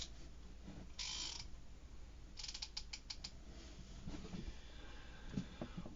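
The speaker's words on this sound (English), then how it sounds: "When you flip the switch, the bit moves a little bit." A ratcheting screwdriver being switched between its unscrew and tighten settings gives a few short clicks and ratcheting rattles, close up and fairly quiet over a soft room background.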